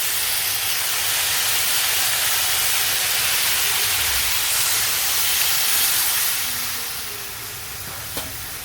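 Loud, sustained hiss and sizzle of a little water poured onto vegetables frying in a hot pan, gradually easing toward the end, with a brief clink.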